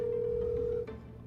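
A single telephone ring tone on an outgoing call, a steady electronic tone lasting under a second before cutting off, heard fairly close and alone.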